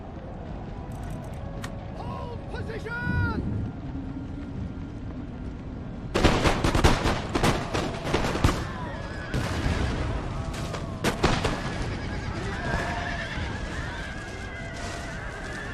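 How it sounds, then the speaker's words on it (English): Cannon and musket fire in an Empire: Total War battle, with a quieter stretch of game sounds and horse whinnies giving way to a loud burst of rolling volleys and booming shots, then more scattered cracks. "It's cannons on the right hand side."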